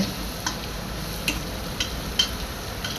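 Spices and salt being stirred into a pot of pulao, with a spoon scraping and tapping in a few separate strokes over a faint, steady background hiss.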